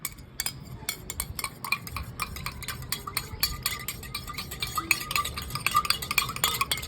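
A spoon stirs homemade lemon juice in a glass, making rapid, continuous bright clinks and taps close by, with no talking over them.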